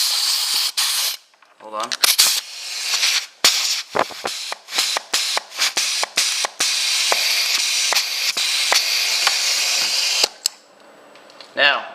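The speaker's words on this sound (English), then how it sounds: "I'm getting my air compressor. You're gonna hear it switch between the 2." A pneumatic valve switches back and forth as air from an air compressor hisses in loud bursts with abrupt cutoffs and sharp clicks; someone briefly speaks.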